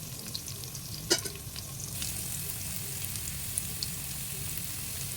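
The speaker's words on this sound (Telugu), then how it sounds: "సాల్ట్ వేయడం వల్ల ఆనియన్స్ త్వరగా ఆయిల్లో ఫ్రై అవుతాయండి" Onions with curry leaves and salt fry in hot oil in a pan: a steady, close sizzle runs throughout, with one sharp stirring clink early on and light scraping after.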